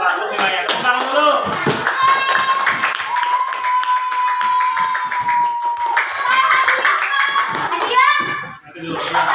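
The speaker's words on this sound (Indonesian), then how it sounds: "Tepuk tangan dulu." Children in a classroom clap their hands together in a lively, uneven burst while young voices chatter and call out over the clapping.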